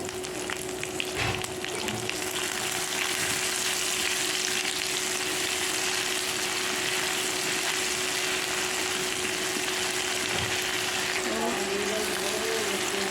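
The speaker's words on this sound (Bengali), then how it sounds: "তো এখানে আমি সামান্য পরিমাণ আদা বাটা দিয়েছি আর রসুন বাটা দিয়ে দিলাম।" Ginger and garlic paste browning in hot oil for a small-fish olive sour dish, a dense continuous hissing sizzle close by with a steady faint hum underneath and occasional stirring noises, no one speaking.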